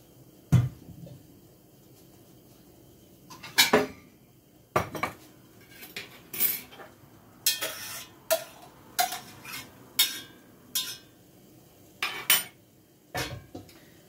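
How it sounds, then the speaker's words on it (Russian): Chanterelle mushrooms being cooked in a pan: a spoon scrapes and clinks against the pan in repeated bursts of stirring, with faint sizzling underneath and no talking. "Приварила чуть-чуть лисички сейчас, чтобы это воды меньше было обжаривать."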